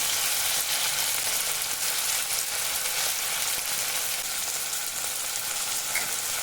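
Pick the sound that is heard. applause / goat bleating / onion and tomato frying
onion and tomato frying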